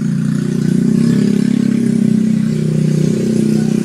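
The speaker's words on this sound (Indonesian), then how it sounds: "Kenapa sepeda motor ini bunyinya cetik-cetik, klepnya kasar suaranya, tidak bisa disetel." A four-stroke motorcycle engine with worn parts runs steadily at idle, its rough valves giving a continuous close ticking clatter over the low engine drone, with no voices.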